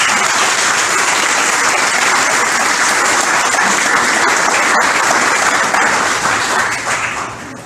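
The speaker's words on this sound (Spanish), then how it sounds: "Dale un aplauso al Rey." A church congregation breaks into sustained applause, dense and loud throughout and tapering off near the end.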